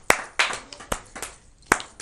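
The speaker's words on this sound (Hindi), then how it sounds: "तालियां आपकी चाहिए इसमें।" A few people in a Hindi poetry recital audience clap sparsely: about five separate sharp claps spread unevenly over two seconds, nearby and fairly clear, with no talking.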